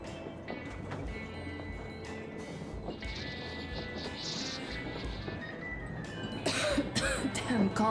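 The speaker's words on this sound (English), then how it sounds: "I'm coughing." A character coughing and clearing his throat in the post-apocalyptic shooter Metro Exodus, heard as short rough bursts over a dense bed of game ambience and background noise.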